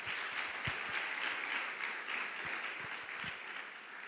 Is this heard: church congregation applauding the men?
yes